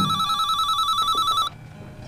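A telephone rings with a steady electronic trill, loud and close, then stops abruptly, leaving a quiet room.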